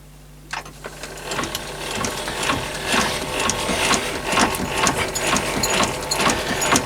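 Metal lathe screw-cutting threads, a steady mechanical whir with rapid ticking gear and ratchet-like clatter, close and continuous after a sharp start, with no talking.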